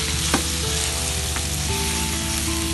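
Marinated chicken tikka pieces fry and sizzle in a pan of masala, a steady close crackle with a few stirring clinks and scrapes and no talk.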